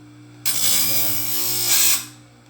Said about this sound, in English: Just a chainsaw grinder put at about a 75-degree angle.